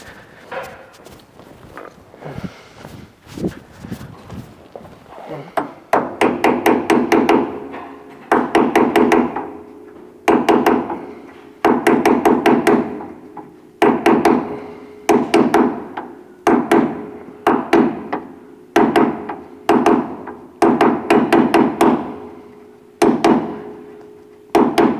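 Repeated metallic hammer strikes on a classic car's Armstrong lever arm shock absorber, coming in rapid bursts of several blows with short pauses between them, loud and close, after a few softer knocks at the start.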